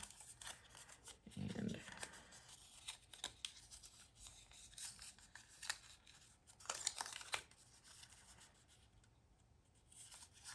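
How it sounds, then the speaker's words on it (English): A cardboard cake treat box is folded along its scores, giving faint, close creasing rubs and crinkles in short bursts, with one sharper scrape partway through and a brief word spoken. "Just fold it on all the scores."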